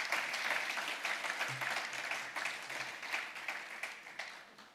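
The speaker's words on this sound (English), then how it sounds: "I think we should clap" An audience at a bank's capital markets day breaks into applause, a thick wash of clapping that starts strong and slowly thins, with a few individual claps standing out toward the end.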